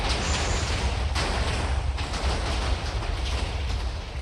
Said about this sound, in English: I was expecting fireworks, but there were TNT fireworks